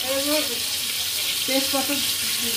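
Small-cut potatoes fry in a pan for a light chicken curry, a constant close sizzle running under a voice that talks intermittently.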